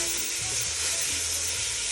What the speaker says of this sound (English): You can hear it sizzling here.